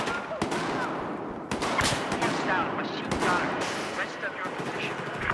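Rapid bursts of automatic gunfire in a Battlefield match, loud and dense with sharp repeated cracks and echoing shots layered over one another.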